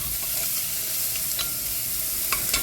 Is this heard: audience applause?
no